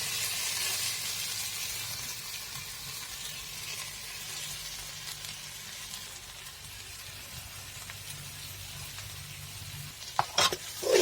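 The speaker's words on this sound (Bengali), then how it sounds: "ভালো করে ভাজি করে নেব মশলাটা" Ground spices (turmeric, chilli, cumin, coriander and meat masala with salt) fry in a pan with a steady, close hiss. Faint stirring runs under it, and a few sharp utensil clatters come near the end.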